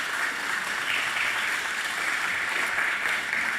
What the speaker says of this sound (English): let's give the consultants a round of applause for their presentation